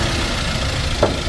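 A 2011 Toyota Avanza G with a manual gearbox idles steadily up close, a dense, even engine hum with a faint click near the end.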